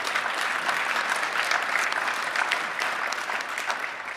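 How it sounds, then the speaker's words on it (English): An audience at a formal ceremony in Ontario applauds, with dense continuous clapping from a crowd that fills the whole moment without any speech. "yes, please applaud OCAD."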